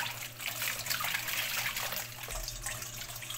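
Something is washed under running water from a tap, a steady close splashing and trickling flow with small shifts as the item is moved beneath the stream.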